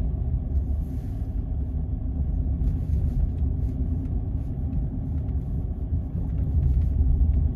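A car on a driving test route crossing large speed humps slowly, heard from inside as a low, continuous rumble of engine and road with soft thumps and creaks as the wheels ride over, rising slightly near the end.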